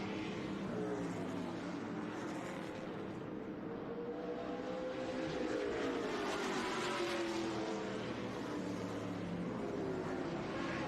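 ARCA Menards Series West stock cars circling Evergreen Speedway, a continuous broad engine roar with a slowly shifting pitch from cars passing at a distance, no voices.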